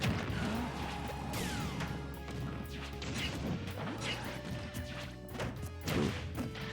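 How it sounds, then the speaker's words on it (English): Super Smash Bros hits land in quick succession, including a Yoshi bomb and a forward smash, as a series of sharp crashing whacks over busy game music and effects. "That was an untimed, ill-advised Yoshi bomb there, and he paid for it with a forward smash"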